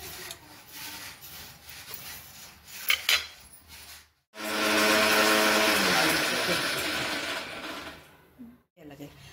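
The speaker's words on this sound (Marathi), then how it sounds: "हे बघा आता मी ना हे आपला खोबऱ्याचा किस आहे ना तो भाजून घेते." Dry grated coconut roasting in a pan for ladoos, a scraping, rustling stir against the metal with a long dense sizzling stretch in the middle, close, with someone talking in between.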